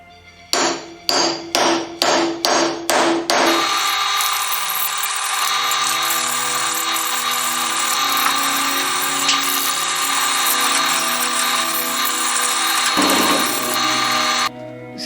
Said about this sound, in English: It's so much nicer actually to machine wet wood.